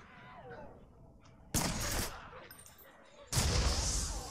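Miniaturized rocket attack in the video game Secret World Legends, two sudden loud blasts about two seconds apart, each with a crackling decay, over quiet game ambience.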